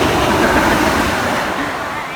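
Heavy surf crashes at a narrow Bali beach with almost no sand, a loud, steady wash of breaking water close by with a continuous roar throughout.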